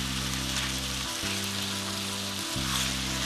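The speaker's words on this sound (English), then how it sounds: "these onions are just jumping out tonight at me, boy. They don't want to stay in this pan." Onions sautéing in a frying pan sizzle and crackle steadily and close up, with a low electrical hum running underneath and no talking.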